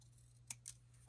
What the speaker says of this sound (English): So I'm going to go ahead and cut those